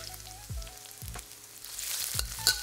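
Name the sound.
stir-frying garlic and chili pepper in a wok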